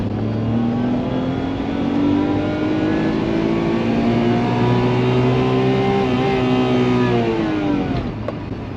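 A Daihatsu Move accelerates uphill in second gear, its engine note climbing steadily and loudly from inside the car with rich harmonic drone, then easing off near the end.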